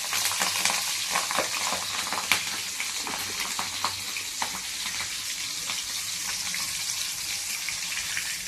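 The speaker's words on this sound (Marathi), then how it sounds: "मिरची पण छान तळून घ्यायची आपल्याला।" Ten green chillies fry in hot oil for chivda, making a steady, close, hissing sizzle with fine crackles and occasional pops that runs without a break and with no talking.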